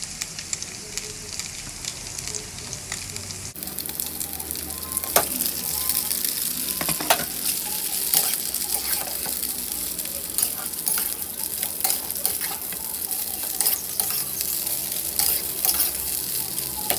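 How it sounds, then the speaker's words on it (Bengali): Pasta stirred and fried with already-browned onions in a pan for a paneer pasta, steady sizzling with repeated scraping stir strokes, close and continuous throughout with no talking. "তো পাস্তাগুলোকে আমরা একটু ভেজে নেব"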